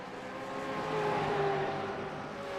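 V8 race car at Circuit Gilles Villeneuve braking hard into the hairpin, with rising and falling engine tones and a thin squeal of locked tyres from a distance, steady and fairly faint.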